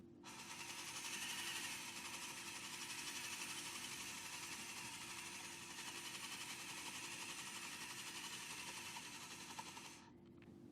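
Gears of a B-52 bomber's automatic astro compass turning on a bench: a faint, steady mechanical whir that holds for about ten seconds, then stops.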